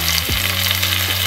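Onion and eggplant sautéing in a pan give a loud, steady, close frying sizzle with a faint low hum beneath it, and no voices.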